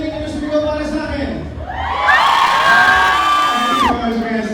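At a Taste of Manila Canada appreciation night, a large indoor crowd shouts, whoops and cheers, the noise rising into a loud sustained roar of high-pitched yells before easing off.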